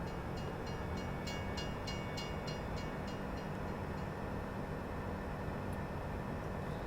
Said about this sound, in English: I changed out the train. It's all logging carts on this train